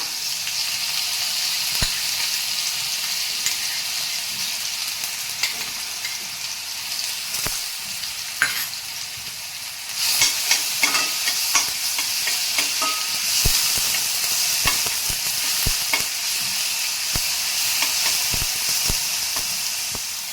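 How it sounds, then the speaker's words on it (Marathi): Ginger garlic paste and green chilli dropped into hot oil for veg fried momos, giving a steady close sizzle that grows louder and hissier midway, with occasional spoon clicks against the pan; no talking. "तेल आपलं आता गरम झालेलं आहे। त्यामध्ये आपण 1 चमचा अद्रक लसूण पेस्ट व मिरची टाकून घेऊया।"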